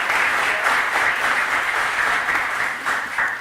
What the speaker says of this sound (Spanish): Un aplauso para el doctor Newton.